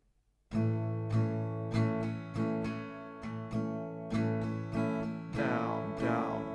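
Slow acoustic guitar strumming, a steady pattern of full chord strokes with ringing sustain, played alone and close.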